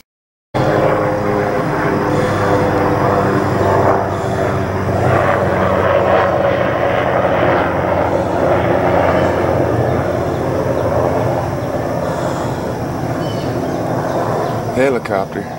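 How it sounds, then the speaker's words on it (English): A steady, loud helicopter engine roar with rotor throbbing runs throughout, close by and unbroken from start to finish. "Helicopter."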